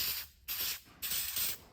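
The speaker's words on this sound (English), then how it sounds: "we'll start wiping it down with the vinyl prep spray" Two long hissing bursts of vinyl prep aerosol sprayed onto taped-off Datsun 280Z interior plastic trim, with a short pause between them; close and fairly quiet, with no talking.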